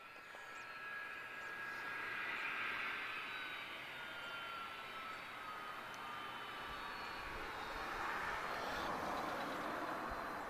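A Delta jet taxies at Lisbon Airport, heard as a faint, distant, steady engine whine and broad rumble that holds constant and swells slightly near the end, with no voices.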